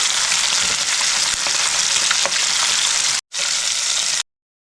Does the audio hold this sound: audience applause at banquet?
no